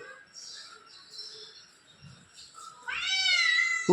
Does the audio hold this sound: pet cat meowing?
yes